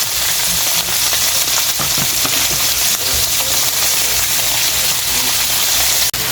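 Onions and garlic sizzle in olive oil in a pan, a steady dense frying hiss with occasional stirring clicks, close and continuous without speech.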